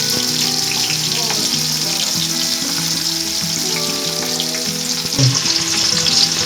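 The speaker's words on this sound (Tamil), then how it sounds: "பெரிய வெங்காயத்தை நீள நீளமாக வெட்டி வச்சிருக்கேன், அதை உள்ள சேர்த்துருக்கோம்." Lengthwise-sliced large onions fry in hot oil for vegetable biryani, giving a loud, continuous close sizzle with occasional stirring scrapes.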